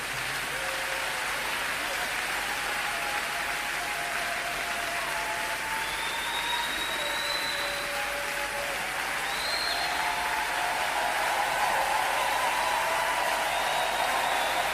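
A church congregation gives sustained applause and cheering, a dense continuous roar of many hands with scattered voices rising above it, loud and unbroken throughout.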